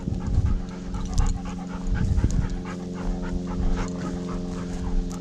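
A hunting dog pants rapidly and close by during a pheasant hunt in the Colorado Rocky Mountains, a quick steady rhythm of breaths with occasional small whimpers and no talk.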